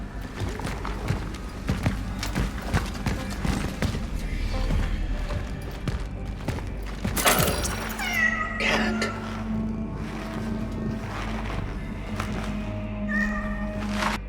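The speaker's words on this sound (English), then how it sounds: "you can pet cats for free upgrades" A cat meows repeatedly while being petted in the Cronos video game, with several clear, fairly close calls standing out over a low ambient game soundscape and occasional mechanical clanks.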